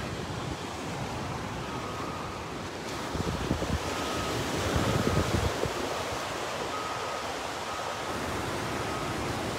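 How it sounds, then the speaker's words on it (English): Ocean waves and wind at Long Beach, New York, a steady wash of surf with rumbling swells under constant wind noise buffeting the microphone. "The wave's too much noise."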